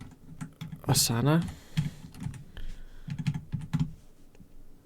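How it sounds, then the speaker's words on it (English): Typing on a computer keyboard, a run of quick irregular key taps close by with short gaps between them, while a voice speaks briefly over the clicks. "let's say I'm gonna type hashtag"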